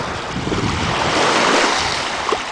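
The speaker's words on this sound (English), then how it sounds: "This is Destin Beach." Ocean surf rolls in at Destin Beach, a steady broad wash of waves mixed with gusty wind buffeting the microphone, continuous and fairly loud with no talking.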